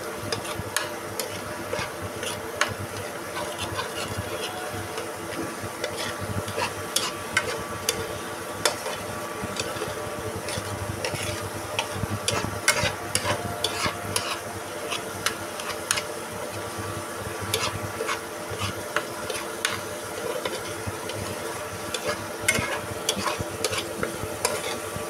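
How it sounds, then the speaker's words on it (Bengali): Spice masala stir-fries in a pan on a home stove: a continuous sizzle with frequent scraping and clinking of a spatula against the pan, steady and close, with no talking. "তো এখন এটাকে ভালো করে কষিয়ে কষিয়ে রান্না করে নিব।"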